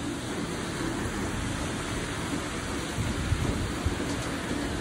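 Heavy rain pours steadily with a dense, constant hiss, and faint low rumbles drift underneath. No one speaks.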